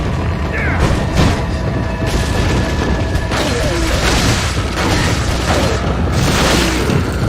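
Grenade blasts in Resident Evil 4 game combat: a dense, loud wash of booming bursts and crackling debris that fills the whole stretch, with repeated swells and no voices.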